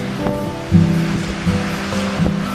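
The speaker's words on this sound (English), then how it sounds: "Waves" Ocean surf washes in a steady, continuous roar, with a few slightly stronger wave surges rising and falling and no voices present.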